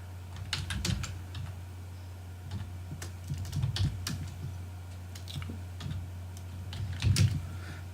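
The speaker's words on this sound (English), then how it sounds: "Let me type the whole name in." Steady typing on a computer keyboard while editing a file in the vi text editor, quick irregular clicks in bursts, close and clear over a low steady hum, with no voice.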